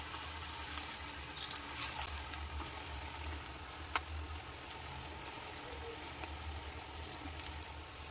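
Food sizzles in hot oil in a home kitchen, a continuous crackling hiss with scattered sharp pops, fairly close and steady throughout.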